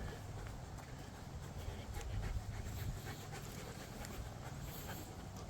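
A dog pants quickly and steadily at close range, the breathy rhythm running without a break under faint room and outdoor noise.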